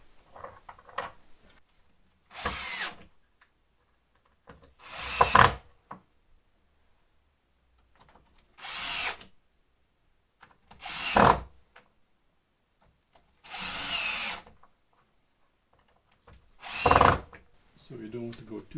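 A power drill drives screws into small wooden blocks set around a carving workpiece to clamp it, running in about six loud, separate bursts of a couple of seconds each, with quiet pauses between.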